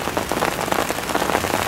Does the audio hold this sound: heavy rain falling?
yes